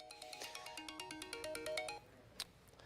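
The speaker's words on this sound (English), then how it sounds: "That's why you hear my phone going off with all that." A mobile phone sounds a series of rapid ringtone tones for severe weather and tornado warning alerts, a rhythmic repeating electronic melody followed by a single short beep, heard clearly with no talk.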